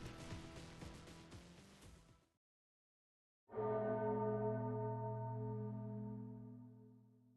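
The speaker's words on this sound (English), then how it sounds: "Anduin hears a bell, clear as day." Church-style bell ringing clearly, first a cluster of strikes that fade into brief silence, then one loud struck bell with a long, bright resonant ring slowly decaying.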